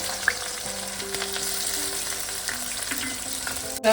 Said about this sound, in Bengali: এবার আমি পেঁয়াজটা বেরেস্তা করে নেব